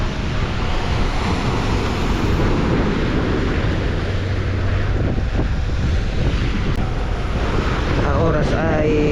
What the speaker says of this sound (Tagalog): laki na alon